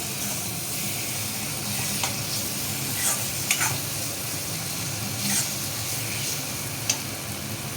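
Roselle (ambadi) leaves sauté in a spiced masala in a pan, giving a steady, even sizzle with a few soft stirring scrapes and clicks. No one speaks.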